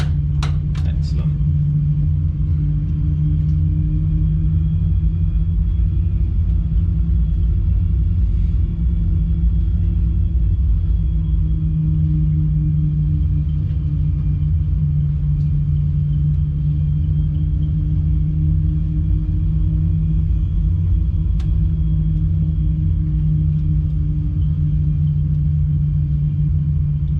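A steady, loud low engine rumble from an aircraft in a realistic flight simulator during takeoff, droning continuously without change throughout.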